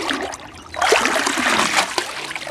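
Water splashes and trickles while a container is rinsed out, a quiet dribble swelling into a loud, sustained gush that sloshes around before tapering off.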